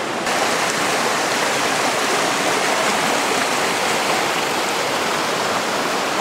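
A river stream flows steadily outdoors, producing a continuous, even rushing of water that stays loud and close throughout with no talking.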